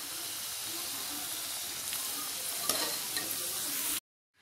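Potato pieces turning brown in hot oil give a dense, even sizzle and crackle with a few sharper pops, then cut off abruptly near the end.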